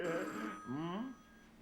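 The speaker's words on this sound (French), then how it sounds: "Bon, au fait, c'est le téléphone." An old telephone bell rings in a French comedy scene, a loud bright jangle for about half a second, followed by a voice speaking.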